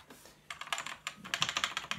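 Computer keyboard keys tapped in quick bursts during jungle track production in a music program, including backspace presses, close and fairly soft, with a short pause before a denser run of clicks; no talking.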